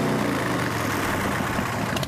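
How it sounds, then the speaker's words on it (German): A motorcycle fitted with a loud American Vance & Hines aftermarket exhaust idles at a police roadside noise check, a steady, close, continuous rumble with no other sounds. "Das ist eine Vance & Heinz Anlage, das ist eine amerikanische Auspuffanlage."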